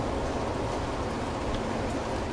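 Rain falls steadily outside a back porch ahead of an incoming storm, a dense, even wash of hiss with no voices.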